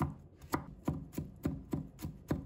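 A knife chops garlic into small pieces on a cutting board, about eight sharp, evenly spaced strikes, close and clear with no voices.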